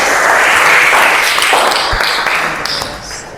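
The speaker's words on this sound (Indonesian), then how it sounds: "Mari kita beri tepuk tangan untuk dua teman kita." An audience gives a burst of applause for two participants in a classroom session, dense clapping that is loud at first and then gradually thins and fades.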